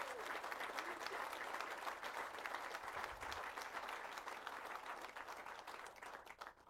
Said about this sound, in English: Can we give a quick round of applause for those sponsors?